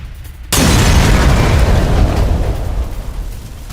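A missile strike explodes on an aircraft factory in Lutsk, Ukraine, beginning with a sudden, loud, close boom that rolls on as a dense, sustained roar and slowly fades, with no voices.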